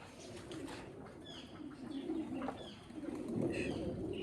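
Soft cooing of Chapray breed pigeons in low repeated murmurs, moderately close, with faint chirps and light background rustle; no talking.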